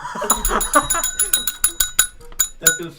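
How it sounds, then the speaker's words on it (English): A bell dings repeatedly in quick bright strikes, mixed with talking voices. "They can ding dong. They can hit that bell."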